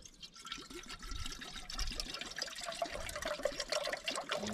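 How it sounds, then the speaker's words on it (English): Water runs and splashes as dust is rinsed out of new, unused brewing bottles, a continuous trickling, gurgling stream heard close up with no talking. "Maybe just rinse a bit of dust."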